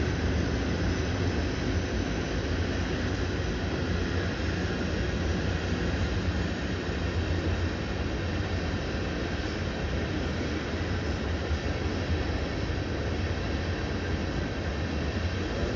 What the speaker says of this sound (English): They're pulling the whole freight train.